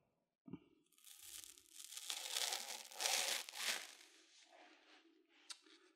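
A serrated kitchen knife saws through a sponge in a sharpness test, giving a dry, crunchy tearing rasp that swells and fades over several seconds, close up and with no talking.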